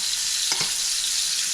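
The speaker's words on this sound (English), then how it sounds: "So that's going to help sear the sides and stuff that aren't hitting the pan." Muscovy duck breast searing in its rendered fat in a pan, a loud steady hiss of close sizzling with a brief low knock partway through, no voices.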